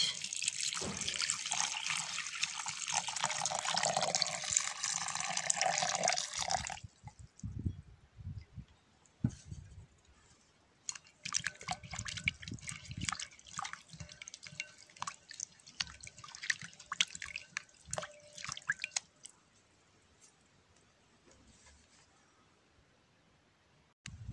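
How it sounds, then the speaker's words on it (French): Freshly peeled pomegranate peels rinsed under a running kitchen tap, with a steady broadband rush of water for several seconds, then intermittent splashes and drips as the flow is interrupted and resumed. "Voilà, j'ai décortiqué quelques écorces fraîches. Et comme toujours, on va les rincer."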